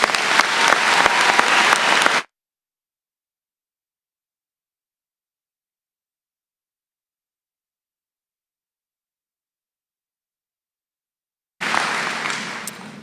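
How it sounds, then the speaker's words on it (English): Dense, loud applause from a high school graduation audience, breaking off into complete silence for several seconds before the clapping returns just as strongly near the end. "Let's give them a round of applause."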